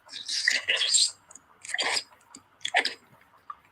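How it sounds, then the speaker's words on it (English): A woman chewing food close to the microphone on a livestream, with wet smacking and crunchy bursts in several uneven bouts separated by short pauses. "all you hear is chewing"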